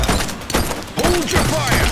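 Gunfire in The Precinct video game, a rapid burst of loud close shots mixed with shouting voices and other game noise.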